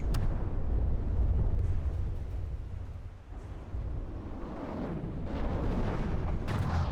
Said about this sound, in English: The AI guns of the crossbones are doing a pretty good job at shooting these down.